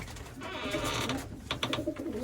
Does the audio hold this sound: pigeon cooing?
yes